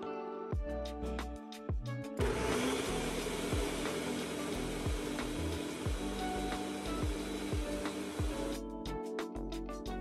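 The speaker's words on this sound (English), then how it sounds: "so that way the blender can chop everything up" Countertop blender chopping fruits and vegetables with a little added water: a loud steady motor roar runs for about six seconds, bracketed by rhythmic clicking and clunking before and after, with no talk.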